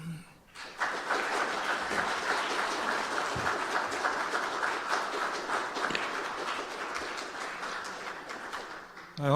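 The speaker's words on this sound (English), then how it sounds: "I hope you heard the applause." Audience applause after a symposium talk on Grand Prix racing history, a steady wash of many hands clapping that starts about a second in and holds evenly for several seconds, moderately loud and fairly close.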